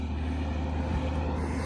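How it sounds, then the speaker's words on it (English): Steady low rumble of road traffic passing nearby at Fountain Paint Pots, Yellowstone, a continuous wash of engine and tire noise with no breaks or voices. "And you can hear the traffic going by."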